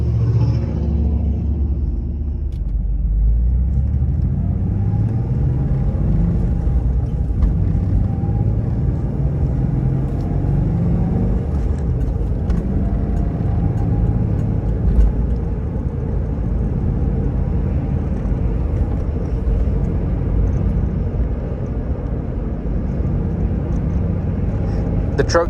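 A 1994 Ford Explorer Sport with the 4.0-liter engine and five-speed manual gearbox drives along, its steady low engine drone and road rumble continuous throughout, with gear changes shifting the pitch now and then.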